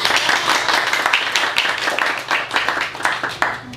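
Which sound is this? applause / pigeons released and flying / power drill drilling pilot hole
applause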